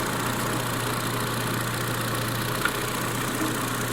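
A Chevrolet Sonic 1.4L turbocharged engine idles close by, a steady low hum and fan-like whir that stays even throughout, with one faint click partway through.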